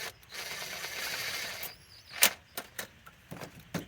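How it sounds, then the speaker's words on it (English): Bolts being run down by hand tool on a Dodge Ram 3500 upper intake, a stretch of low hiss and handling noise followed by a series of sharp close ratcheting clicks and taps, with no talking. "I'm going to run some of these bolts down first."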